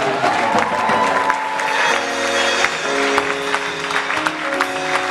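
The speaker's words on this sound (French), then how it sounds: "Alors acclame très fort le Dieu qui est vivant." A church congregation applauds and cheers loudly and steadily, a dense, continuous wash of clapping and voices from a large crowd throughout.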